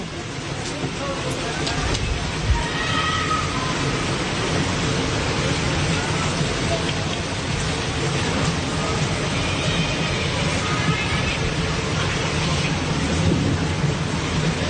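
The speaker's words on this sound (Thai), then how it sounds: "ฝนก็ยังตกต่อเนื่อง" Heavy rain pours steadily during a night flood in Hat Yai, a dense continuous roar with low thunder rumbling underneath throughout, with faint voices in the background.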